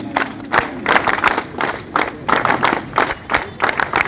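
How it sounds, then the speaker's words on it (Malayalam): Crowd at a political election rally clapping together in a rhythmic pattern, bursts of claps in short grouped beats with some cheering, loud and close. "ഞാനൊരു പറയുന്ന താളത്തിൽ കൈയടി. 1 2 1 2 3."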